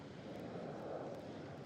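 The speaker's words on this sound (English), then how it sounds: "I hear a jet in the background." A jet aircraft rumbles faintly in the distance above an outdoor spot as cruise ships sail from Fort Lauderdale, a soft, broad, steady roar with no voices.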